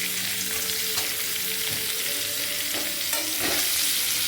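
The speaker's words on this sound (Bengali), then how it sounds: "এবার পেঁয়াজের সাথে একটু আলুটাকে ভাজবো" Potatoes fry with onion and green chilli in a pan, a steady loud sizzle with occasional scraping stirs, no voices.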